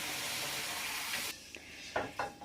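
Vegetables with basil stir-fry in a hot pan, giving a steady hiss of frying that suddenly drops away, followed by a few sharp clinks of a utensil against the pan, close by and without talk.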